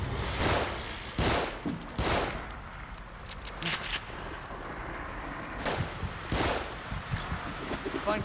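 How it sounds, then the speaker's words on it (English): Gunfire in the horror video game The Evil Within, with loud bursts of rapid shots crackling in clusters over a dense, rumbling background. "They're shooting."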